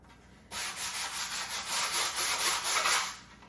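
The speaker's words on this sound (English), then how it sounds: "I've decided to sand inside for some reason." Hand sanding of a wooden laundry-room shelf indoors: steady, close scratchy rasping strokes in a rapid even rhythm, starting abruptly and continuing for about three seconds before easing off.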